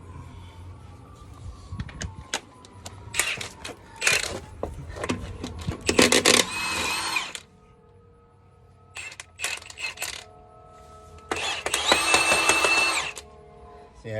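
A power tool removes lug nuts from stock truck wheels so the tires can come off for mounting 35-inch tires. Several short bursts of whirring and rattling are followed by two longer loud drilling runs, with metallic clinks in between.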